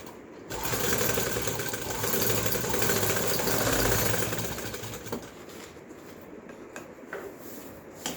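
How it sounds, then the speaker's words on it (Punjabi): A sewing machine runs steadily while stitching a neckline faced with buckram, a continuous mechanical whir that swells and eases over several seconds before thinning out, alone with no talking. "ਇਸ ਤਰ੍ਹਾਂ ਗਲੇ ਤੇ ਸਲਾਈ ਲਾ ਲੈਣੀ"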